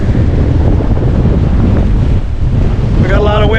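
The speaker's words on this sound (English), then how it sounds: "We got a lot of wind today" Strong wind roars loudly and steadily across the microphone aboard a sailboat reefed in jib and main, in about 22 knots true, with water rushing beneath.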